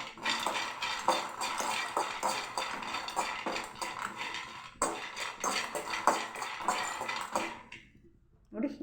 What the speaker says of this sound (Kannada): ನೋಡಿ ಇಷ್ಟು ಕಡಲೆಕಾಯಿ ಬೀಜ ತೊಗೊಬೇಕು, ಹುರ್ಕೊಬೇಕು.